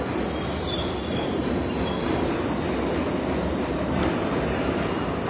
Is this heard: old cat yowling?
no